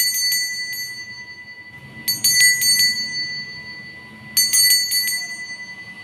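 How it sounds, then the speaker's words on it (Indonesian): A bright metallic bell rings in three separate clusters of rapid strikes, with the tones ringing on between them over soft background murmur. "tanda lonceng berbunyi."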